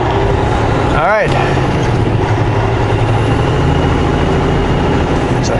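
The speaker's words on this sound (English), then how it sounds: "It's a Cisco truck." Sysco delivery truck passing on the road, a heavy diesel engine rumble with a brief rising and falling whoosh as it goes by, over the continuous road noise of another moving vehicle.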